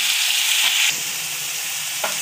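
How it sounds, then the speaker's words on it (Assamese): Ground onion and ginger fry in hot oil in a pan with a loud, bright, continuous sizzle that drops slightly in intensity about halfway through, with a faint clink near the end. "এইখিনি অকণমান ভালকৈ ভাজি ল'ব লাগিব।"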